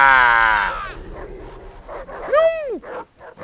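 Attacking dogs bark and yelp in the open-world shooter Far Cry 3. Several short barks mix with game noise, and one high, rising-and-falling yelp stands out clearly near the middle.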